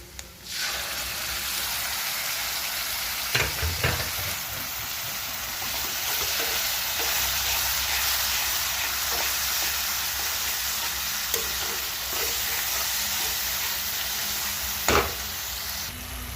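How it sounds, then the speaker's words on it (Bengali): Tomato, dried chilli and garlic paste frying in oil for a bitter gourd curry makes a steady, close sizzle with occasional spatula scrapes and knocks, continuing unbroken with no one speaking. "টমেটো, শুকনো লঙ্কা, রসুনের পেস্টটা দিয়ে ভালো করে কষতে হবে"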